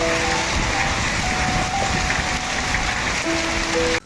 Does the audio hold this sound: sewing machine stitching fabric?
no